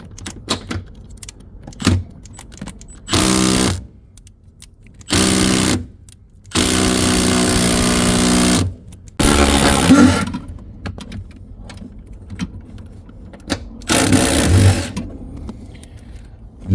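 Several short bursts of a ratcheting swivel tool buzzing on 15 mm seat bolts in a 2006 Chevy Silverado cab, loud and close, each whirring run separated by quiet gaps and small metallic clicks.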